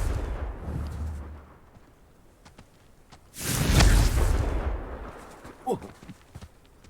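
Confringo fire spell blast in Hogwarts Legacy, a single loud whooshing burst in the middle of a quieter stretch of game ambience, fading over about a second.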